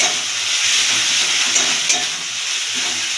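Ginger, garlic and chili paste frying and being stirred in hot oil, a steady loud sizzle and hiss with soft scraping of a spoon against the pan.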